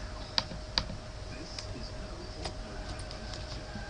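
Computer keyboard keys are tapped out while entering login details, a few sharp clicks and sparse ticks spaced irregularly over a low room hum, close and fairly quiet.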